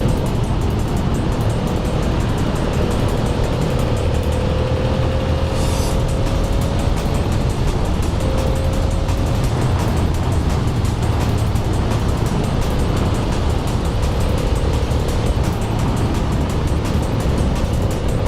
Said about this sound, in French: C'est vraiment agréable ce bicylindre hein. Que tu sens travailler un peu sous ton cul là.